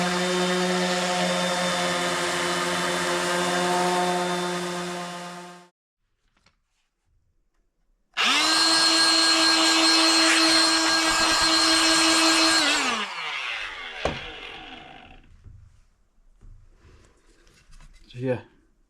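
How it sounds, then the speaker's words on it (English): A power sander buzzing against a wooden workshop project, two loud sustained runs of steady high-pitched whirring separated by a short pause, then winding down into scattered handling knocks. "we're gonna go ahead and sand this down"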